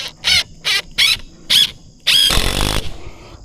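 A power drill drives a stubborn screw into OSB in four short whining bursts, then a longer grinding push, all close and loud with no voices.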